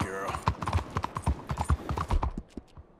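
Hooves clip-clop steadily from a temperamental horse in Red Dead Redemption 2, close and loud. A few sharp snorting bursts cut in before the steps trail off near the end.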